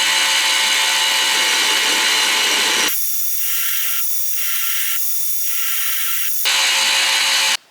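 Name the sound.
grinding wheel cutting notches into Damascus steel rings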